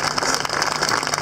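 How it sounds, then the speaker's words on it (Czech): Dense, steady applause from an audience thanking František Zborník at an Easter Passion play in Česká Lípa, a continuous wash of many hands clapping at full strength without a break. "A to prosím obrovský potlesk pro Františka Zborníka"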